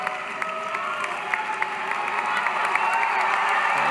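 A commencement crowd in a large hall claps and cheers, a broad wash of applause with voices shouting within it, building slightly louder toward the end.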